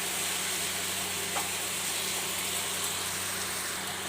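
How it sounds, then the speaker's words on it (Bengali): Cooking masala fries in a pan with a dense, unbroken hiss of sizzling throughout, loud and close, with faint stirring underneath and no speech. "আর একটু ভালো করে মিশিয়ে নিই"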